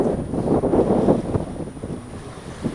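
Wind buffeting the microphone aboard a sailboat in about 15 to 16 knots of wind off Le Lavandou, France: a low, rumbling roar with gusty swells that eases toward the end, with no voices.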